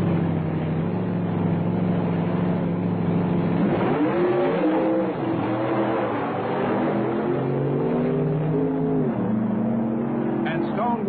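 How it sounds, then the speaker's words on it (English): Drag race between Big John Madmanian's red coupe and a Stone, Woods and Cook car in an all-West Coast showdown: loud, continuous engine roar with rising and falling revs, while a voice talks over it throughout. "Big John Madmanian in the red coupe meets one of the Stone, Woods, and Cook cars in an all-West Coast showdown"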